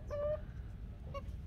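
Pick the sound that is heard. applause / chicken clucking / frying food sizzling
chicken clucking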